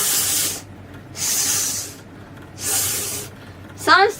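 A voice imitates the hissing letter S sound in three sustained bursts, each about half a second long, separated by pauses, followed by a brief higher chirp at the end.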